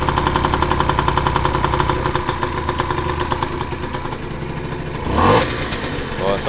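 A Yamaha TZR 4YV motorcycle engine, fitted with a size 60 carburettor jet and with the choke off, runs close by at a steady, rattly idle, then gives a brief rev before settling again.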